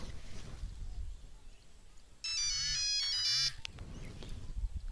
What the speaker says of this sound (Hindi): एगो काम करा, जल्दी से VRP भैया के फोन लगावा।